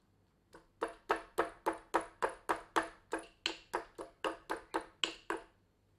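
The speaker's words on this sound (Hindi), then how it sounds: "तीन हरी मिर्चें भी अदरक के साथ कूट लेते हैं।" Ginger and three green chillies are pounded in a stone mortar with a pestle, giving a steady run of about fifteen sharp, evenly spaced strikes, close and clear with nothing else heard.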